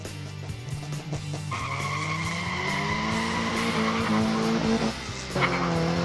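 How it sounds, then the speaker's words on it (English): Small 1/64 scale diecast muscle cars, a Corvette among them, race down a track in a stock muscle car heat; a steady rolling whir builds with rising tones and a brief squeal as a car slides sideways across the line. "Look at Sawyer getting it sideways across the line."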